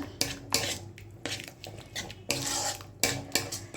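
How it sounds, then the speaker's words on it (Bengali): Bengali kofta curry of chhana, potato and carrot being stirred and sautéed in a pan, with repeated scraping clinks of a metal spatula against the pan in an uneven rhythm, close and fairly quiet, no voices. "চলো এটাকে কিন্তু আমি ভালো করে কষিয়ে নিই সুন্দর করে কষিয়ে নিয়েছি"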